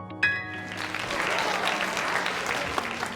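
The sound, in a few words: audience cheering and clapping after a piano performance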